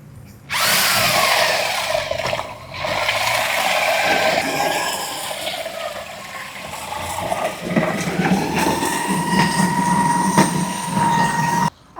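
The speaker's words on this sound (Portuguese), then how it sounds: "aqui a gente está usando uma furadeira com um encaixe de batedor de tinta" A power drill with a paint mixer attachment whirs loudly and continuously, its pitch shifting as it churns thin lime paint, close up, with no talking.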